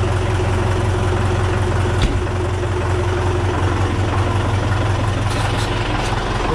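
A John Deere 5410 tractor with algae-contaminated fuel idles steadily, its loud, low, heavy diesel rumble running unchanged throughout at close range.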